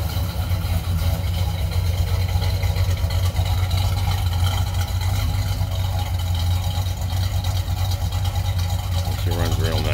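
A 1969 Pontiac GTO Judge with a 400 Ram Air III engine and non-original carburetor and distributor, running at a steady idle with a low, even rumble that holds throughout.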